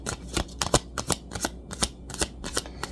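Tarot cards are shuffled in the hands, a fast run of crisp riffling snaps and flutters repeating in quick bursts, close and fairly quiet with no voices.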